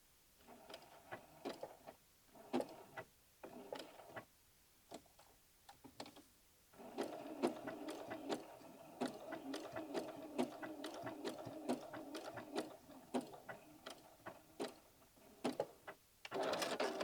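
Sewing machine stitching a quilted denim jacket sleeve with scrappy appliqué, running in bursts of rapid mechanical ticking with short pauses, then a long steady run close by.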